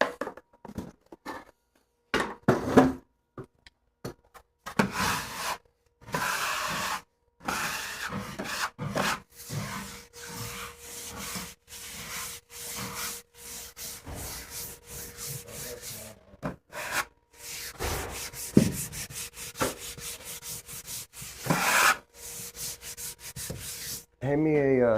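Hand sanding with a sanding pad on a painted surface that will be repainted, giving repeated rough scratchy rubbing strokes in bursts with short pauses, close and steady throughout.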